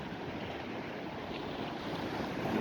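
Rough surf and gusty wind at Admiralty Park beach in Bermuda, a continuous roar of breaking waves and wind buffeting the microphone, swelling slightly at the end with no voices.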